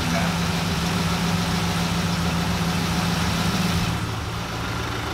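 Twin turbo V8 engine in a Landcruiser running steadily nearby, loud and continuous with a low droning hum that pulses and surges unevenly, easing slightly near the end.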